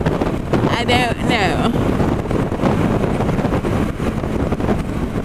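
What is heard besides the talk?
wind noise while riding a CB300F motorcycle on the freeway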